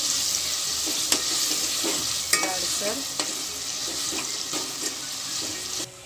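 Ground onion paste going into hot oil for a Sunday special mushi biryani, a strong continuous sizzle with a few sharp spoon clanks and stirring scrapes close by.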